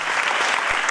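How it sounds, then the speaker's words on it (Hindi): A crowd gives a guest a brief burst of loud, dense clapping, steady and close for its whole second with no voices over it. "जोरदार तालियां सर के लिए"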